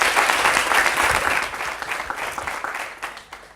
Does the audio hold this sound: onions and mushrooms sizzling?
no